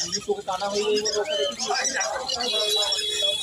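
Budgerigars chirp and twitter in cages at a busy Sunday pet bird market in Serampore, a dense chatter of small bird calls mixed with nearby people talking over the crowd noise.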